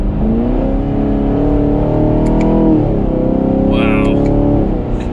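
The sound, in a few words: 2021 Chevrolet Camaro 2SS exhaust pops and revving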